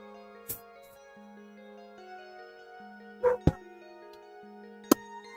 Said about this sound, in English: Need my dog to stop barking.